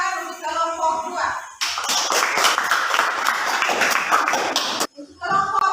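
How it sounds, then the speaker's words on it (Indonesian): Applause for group 2 in a classroom, a burst of many hands clapping for about three seconds, dense and fairly loud, between stretches of someone speaking. "kita kasih tepuk tangan untuk kelompok 2"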